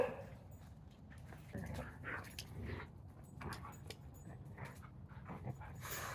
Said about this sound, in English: I have a Catahoula leopard dog as well as a husky. They play rough.